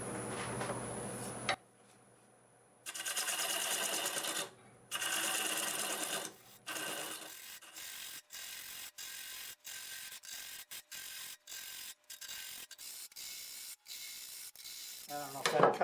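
A carbide tool on a wood lathe cuts across the grain of stubborn wood, giving loud bursts of scraping chatter that break into a string of sharp rhythmic ticks and knocks as the piece spins.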